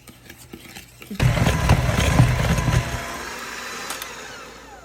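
Eggs and milk batter whipped with an electric mixer, a motor starting abruptly and whirring loudly for a couple of seconds before easing to a steadier, softer whine, no talking.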